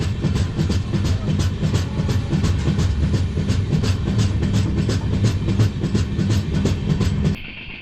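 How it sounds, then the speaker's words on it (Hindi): A train rolls slowly over a track under maintenance, wheels clicking in a steady clickety-clack rhythm with a loud continuous rumble from inside the carriage, cutting off abruptly near the end. "इसलिए ट्रेन धीमी गति से चल रहा है अभी।"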